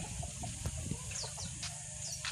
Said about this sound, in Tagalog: ayan po yung mga broodcock